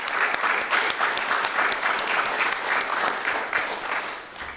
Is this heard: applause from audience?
yes